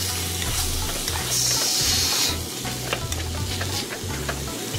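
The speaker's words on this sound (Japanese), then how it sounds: "キムチをね炒めると" Kimchi and pork sizzle and are stirred in a clay earthenware pot, giving a steady loud frying hiss with scraping stirs and a few clicks of the utensil, close up and without speech.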